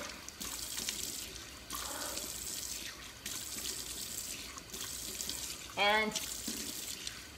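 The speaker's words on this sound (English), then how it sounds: "I've just rinsed all of my skin polish off" Tap water runs in bursts into a sink while skin polish is rinsed off, gushing on and off with short pauses and a brief squeak near the end; a voice is faintly heard.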